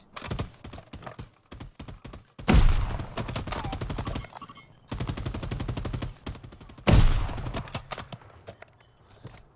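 Rapid bursts of automatic gunfire in Call of Duty: Warzone, loud and close, with several sustained volleys broken by short pauses and scattered single shots.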